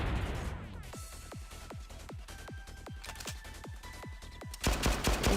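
Grenade launchers fire in the game Blue Archive: a rapid run of about a dozen sharp booming shots at a steady rhythm, loud and close, ending in a burst of heavier explosive noise.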